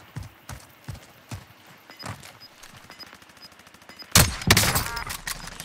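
Gunfire in Call of Duty Warzone, a run of rhythmic thumping shots followed by a loud close burst near the end, set against game background sound.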